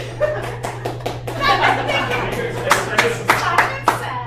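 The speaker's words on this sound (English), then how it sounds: "Applaud, okay?" A small live audience claps in loose bursts, sharp individual hand claps picking up toward the end, over a steady low hum with some voices mixed in.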